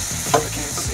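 Spices with turmeric and garam masala frying in a pan, giving a short burst of sizzling with a brief stirring scrape in the middle, close and fairly loud.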